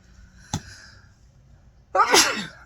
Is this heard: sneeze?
yes